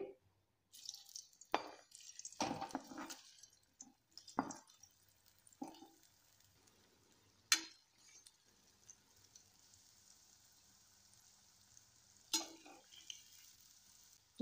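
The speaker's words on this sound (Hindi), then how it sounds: "पत्तों को हमने अच्छे से फ्राई कर लिया है" Pieces of colocasia (arbi) leaf frying in oil in a kadhai over a low flame, a soft steady sizzle broken by occasional sharp pops and clinks, close and fairly quiet.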